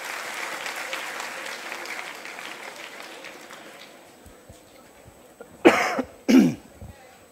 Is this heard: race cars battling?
no